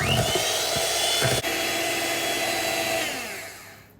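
Electric whisk beating corn flour into glossy pavlova meringue, a loud steady high-pitched whir close by that fades away over the last second as the mixer stops.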